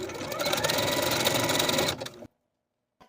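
A sewing machine stitches back and forth across elastic in one steady, loud run for about two seconds, then stops and leaves silence.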